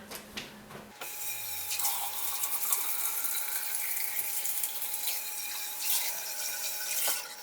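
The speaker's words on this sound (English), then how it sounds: "let's rinse it off one more time" A tap runs steadily into a sink as a ridged cast iron pan is rinsed, with a strong, continuous close splashing flow that starts abruptly and shifts slightly as water strikes the pan, no talking.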